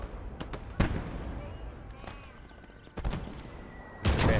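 Mortar firing in the game Gates of Hell: Ostfront, a series of loud booming thumps at irregular intervals, some near and some farther off, amid battlefield ambience with a voice talking over it.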